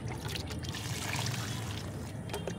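Liquid fertilizer rich in potassium, mixed with water, pours steadily onto potted flowering plants, a continuous close trickling splash that runs unbroken with no talk.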